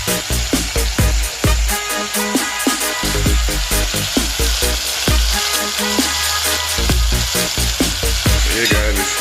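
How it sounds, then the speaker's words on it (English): Chicken pieces frying in a pan for Jamaican-style chop suey, a loud sustained sizzle overlaid with repeated clattering knocks and thumps from start to finish. "we're gonna fry these for like 6 minutes on each side"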